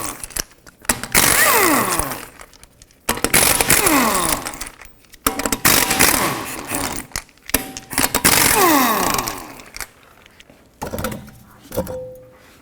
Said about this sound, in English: Again, 19mm socket, remove all 5 of your lug nuts, and then take the wheel off.